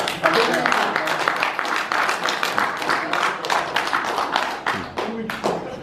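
Clapping in support from the public at a city council meeting on a homeless state of emergency, a spread of uneven hand claps at close to mid range, thinning out near the end.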